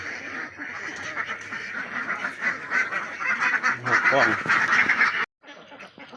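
Ducks of several breeds on a small farm quack and honk in a busy, overlapping flock close by while someone talks, the calls building louder before cutting off abruptly near the end.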